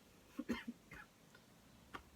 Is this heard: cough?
yes